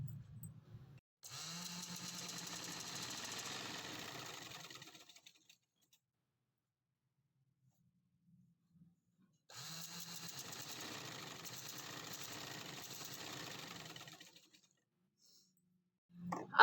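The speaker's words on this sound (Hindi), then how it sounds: "आजकल मशीन को भी ऑयल देने वाला है तो इसकी आवाज़ भी थोड़ी ज़्यादा है।" A sewing machine that needs oil runs noisily in two separate bursts of a few seconds each, with a rattling mechanical clatter and quiet pauses between them.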